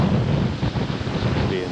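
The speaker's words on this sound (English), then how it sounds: "it's definitely too windy right now" Wind buffets the microphone at a lakeshore in Michigan, a brief, rough, low rumble that stays fairly loud throughout.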